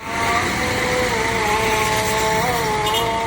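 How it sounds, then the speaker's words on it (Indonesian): A Pala Kencana intercity bus on the Bandung–Palembang route rolls past nearby, its steady engine drone and road rumble holding loud and even throughout, with no talk over it. "Ada bus Pala Kencana ya."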